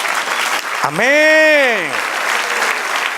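A church congregation applauds in a steady wash of clapping while a single voice rises over it in a drawn-out sung or shouted exclamation.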